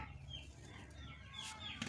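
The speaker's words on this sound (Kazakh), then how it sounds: "Міне әтешім. Міне әтешім. Тауықтар." A rooster and hens from a small backyard flock cluck softly and faintly, a low muffled murmur of fowl throughout with no talking.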